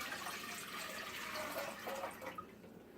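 Water pours steadily into a cooking pot for boiling noodles, a continuous splashing rush that thins out near the end, fairly quiet and with no talking.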